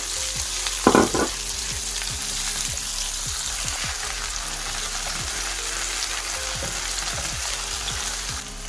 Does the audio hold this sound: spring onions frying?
yes